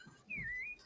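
A voice imitates a whistling sound, a single thin, pitched whistle lasting about half a second that dips slightly and rises again, fairly faint and alone.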